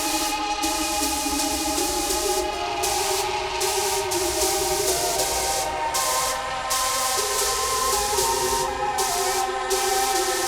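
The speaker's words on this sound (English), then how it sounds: "It almost sounds like a spray can, like graffiti paint" Breathy, spray-can-like hiss running steadily through a hip-hop track, with sustained synth tones and periodic drops in the upper hiss over about ten seconds.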